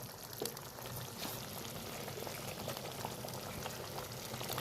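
Cauliflower roast gravy with onion, cashew and poppy seed paste simmering in a pan, a faint, continuous bubbling and popping close by, with no talk.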